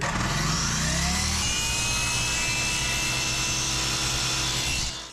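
A saw cuts a wooden board at a 45-degree angle along a marked line, giving a loud, continuous rasping close by that stops abruptly at the end.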